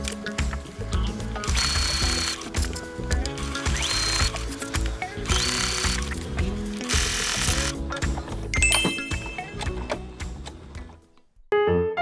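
Sewing machine stitching a fleece vest, a steady motorized whir in repeated runs of a few seconds each with brief pauses and mechanical clicks, ending in a short quiet gap.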